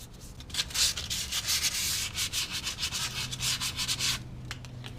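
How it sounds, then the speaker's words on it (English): Steady rhythmic rasping as a part is rubbed back and forth against a rasp during front wheel bearing work on a 2007-2014 Chevrolet Silverado, close and continuous for several seconds. "Make sure sand a little bit on this rasp right here."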